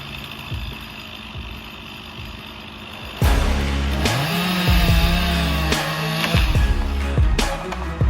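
Chainsaw cutting a tree outdoors, starting as a faint idle, then revving loudly into a sustained buzzing cut with pitch dips and surges as the chain bites.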